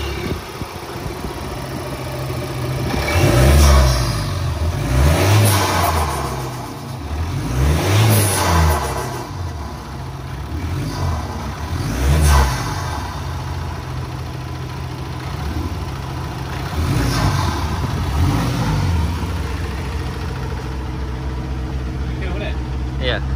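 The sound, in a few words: VR46 Ford Transit van engine fired up and revved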